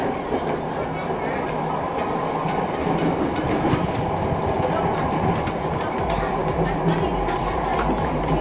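Jakarta MRT train, a first-class car from 2018 with its own motor, running steadily with a loud continuous rumble and rhythmic track clatter heard from inside the carriage, with voices in the background.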